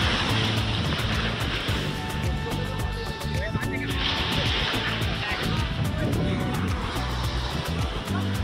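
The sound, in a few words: strong ocean waves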